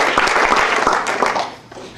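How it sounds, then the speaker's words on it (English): A burst of applause from a crowd, dense clapping that gradually thins and fades over a couple of seconds. "let's give him a round of applause"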